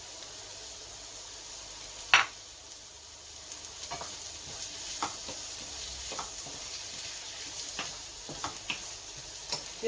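Garlic and vegetables sizzle steadily in a hot pan, a soft continuous frying hiss broken by occasional sharp clicks and scrapes of stirring, with no voices.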